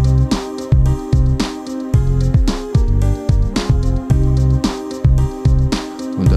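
Yamaha keyboard runs its dance trance style at reduced volume, with a steady four-on-the-floor kick, pulsing bass and bright synth stabs repeating in a driving loop.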